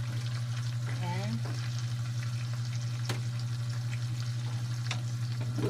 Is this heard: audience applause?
no